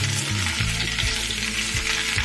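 Cut pumpkin pieces fry with potatoes in a pan, a dense, loud, continuous sizzle with scraping stirring strokes close by and no talking.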